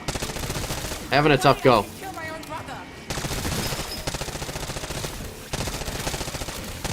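Rapid bursts of C9 submachine gun fire in Black Ops 6, sustained automatic volleys with brief pauses, interrupted by a short sharp electronic game effect and some talking.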